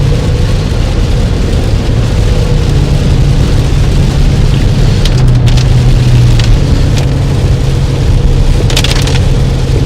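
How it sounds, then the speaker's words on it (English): Heavy rain from passing storm showers pours steadily onto a vehicle during a storm chase near Pittsburgh, a loud, unbroken wash over a low engine rumble, with a few brief clicks and taps. "at least for this system of rain that's moving through these showers"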